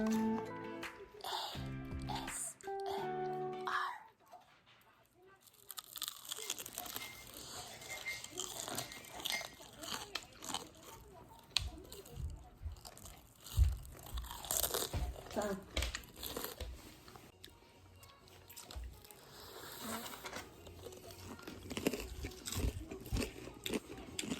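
Close crunchy chewing and crinkling as cheese balls with honey mustard sauce are eaten, with someone speaking in Korean between bites and packaging rustling early on.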